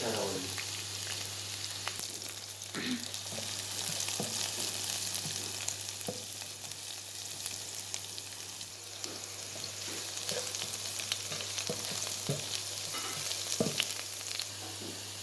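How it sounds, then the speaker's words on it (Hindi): Garlic fries in a tablespoon of ghee in a pan for spicy noodles, giving a steady, crackling sizzle that runs the whole way through. Faint stirring clatters sit on top and no one speaks. "1 टेबलस्पून घी डाल देंगे और इसमें लहसुन डाल कर इसको अच्छी तरह से फ्राई कर लेंगे।"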